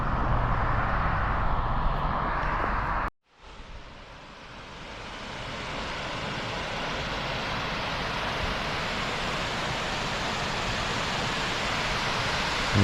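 Water rushes steadily through Claverack Creek beside an old mill site with a sluiceway, a dense, even roar close by that cuts out for a moment early on, then returns and holds.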